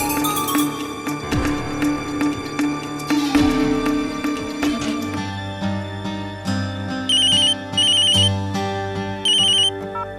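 A phone ringtone chirps in three short repeated bursts over dramatic background music in a Hindi television serial, fairly loud and close, with no talking.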